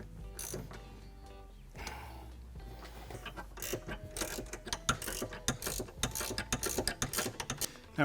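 A hand ratchet clicks rapidly as it tightens a bolt on an ARB twin air compressor mounting bracket in a Ford Bronco, the loud close-up ratcheting coming in several bursts with short pauses between.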